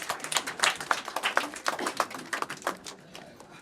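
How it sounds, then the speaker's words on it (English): A small audience at a university summit inaugural session gives scattered applause, individual claps distinct and irregular, fairly faint in a quiet hall and thinning out toward the end. "Give a clarion clap."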